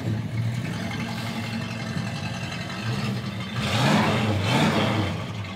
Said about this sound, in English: Nice little single exhaust rumble.